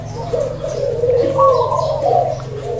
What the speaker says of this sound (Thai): ขึ้นแล้วครับกำลังขัน ขันคู